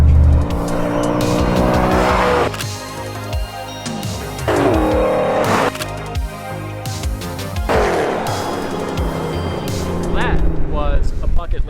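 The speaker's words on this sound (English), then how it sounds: "just hearing that massive 32 valve quad cam engine just rip down this airstrip was incredible" A vintage Chevrolet Corvette ZR1 with a 32-valve quad-cam engine drag races down an airstrip, loud close revving through repeated gear changes with bursts of tire squeal as it struggles for traction, and voices talking over it.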